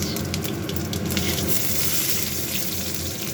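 Dried red chili, whole cumin seeds and onion fry in hot oil for a dal tempering, giving a continuous dense sizzle that stays loud and close throughout with no talking.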